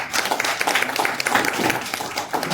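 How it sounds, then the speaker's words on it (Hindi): Audience applause after an announcement at a Dehradun Bar Association event, a dense steady clatter of many hands clapping for about two and a half seconds, fairly loud and even throughout. "इनके लिए जोरदार ताली।"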